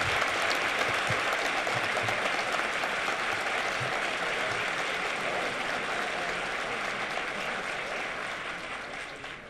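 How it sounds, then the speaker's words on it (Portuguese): A crowd at a Brazilian surgeons' congress applauds a speaker, producing a thick, continuous wash of clapping that holds steady and then tapers slightly toward the end. "Uma salva de palmas para o Dr."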